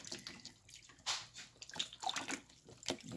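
Flour dough being washed by hand in warm water for seitan, with soft splashing and sloshing in uneven bursts, close and fairly quiet, with no talking.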